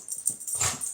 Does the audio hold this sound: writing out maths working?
no